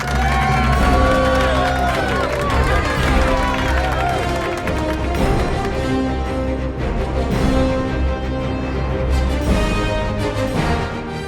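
Cinema crowd at a Mohanlal film (L2: Empuraan) cheering, whooping and clapping as the star's name and title appear, a loud dense roar sustained throughout over the booming soundtrack.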